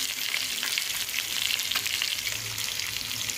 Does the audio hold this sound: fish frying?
yes